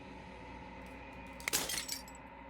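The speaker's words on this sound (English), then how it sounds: "As the final fragment of glass shatters" Glass shattering in the game Slay the Princess, a sudden bright crash of breaking fragments followed by a brief tinkling scatter over a quiet, low musical drone.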